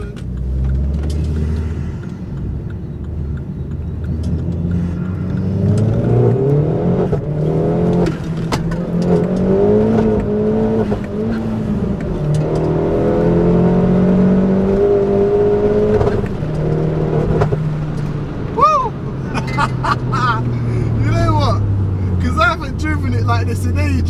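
Forged Vauxhall Corsa VXR engine revving and pulling hard through the gears, a steady loud drone that rises and dips with each shift, with people talking over it throughout.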